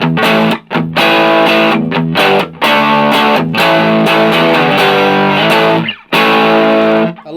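Loud, heavily distorted electric guitar chords ring out in bursts through a Lekato Pogolab mini amp, each sustained chord cut by short breaks, sounding gritty and compressed.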